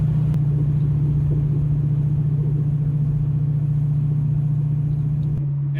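Fox Body Mustang fitted with a FlowMaster 40 Series exhaust, cruising at steady highway speed: a continuous, loud, low droning exhaust rumble holding an even pitch throughout, with only a slight drop near the end.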